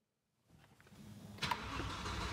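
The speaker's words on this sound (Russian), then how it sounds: "Если я сейчас завожу машину," BMW M5 E60 engine starting from silence: a short cranking buildup, then a sharp catch and a steady, moderately loud idle, heard close with no talk.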